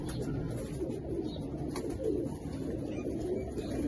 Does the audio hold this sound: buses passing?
no